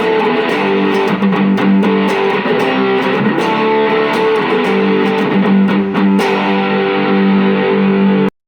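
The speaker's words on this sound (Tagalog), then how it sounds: "Ito yung high gain niya." An electric guitar chugs and strums through a Chameleon 30-watt amplifier on its high-gain channel, loud and close with thick, gritty distortion and repeated picked attacks, ending in a sudden cut.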